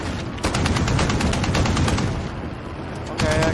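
Sustained automatic gunfire in a shooter video game, fast repeated shots rattling loudly throughout, easing slightly near the end before a final burst.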